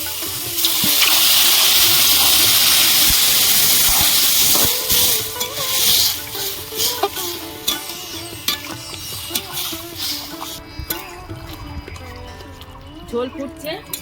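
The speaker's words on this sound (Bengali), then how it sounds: "ঝোল ফুটছে" A thin fish curry broth with ridge gourd, potato and stems boils hard in the pot, a loud bubbling hiss for the first few seconds before a voice talks over quieter simmering.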